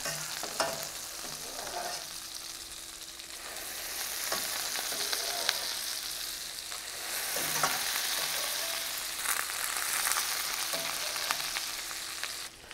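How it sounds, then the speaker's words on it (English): Gnocchi sauté in browning butter with sage in a pan, a steady close sizzle of frying throughout with occasional scrapes and tosses, no voices. "So we're going to saute these gnocchi for a minute."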